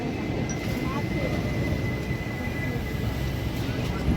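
The Kanchanjangha Express rumbles heavily nearby as it pulls into a platform, with a steady low roar and a faint high tone, continuous throughout.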